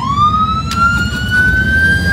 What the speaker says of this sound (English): Gotta test out all the sirens. Columbus PD bikes, man.